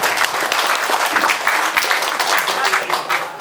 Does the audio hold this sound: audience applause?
yes